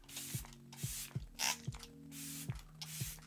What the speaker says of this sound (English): setting spray, I'm gonna use the Rose Instant Hydration Mist by Fresh